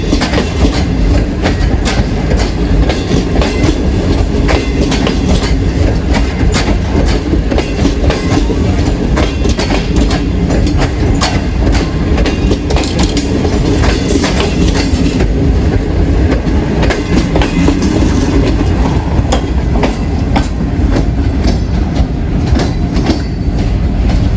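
Loud, continuous rumble of a full passenger train, the Millat Express, with rhythmic clickety-clack of wheels over rail joints and occasional metallic squeals, heard from close by.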